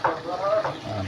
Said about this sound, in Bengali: আলুটা কষাইতেছি